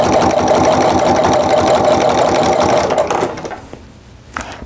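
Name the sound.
sewing machine with walking foot quilting a mug rug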